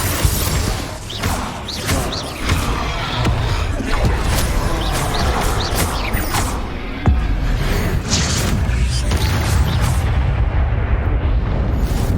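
Confringo spell explosions in the video game Hogwarts Legacy sound as loud, repeated booms and crashing blasts over a dense, continuous roar of battle, with one sharp impact near the middle.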